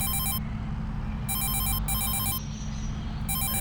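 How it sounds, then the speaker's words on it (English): A phone rings in Farming Simulator 22 with a loud electronic trilling ring that repeats in bursts with short gaps, over a constant low engine drone. "Who's ringing me now?"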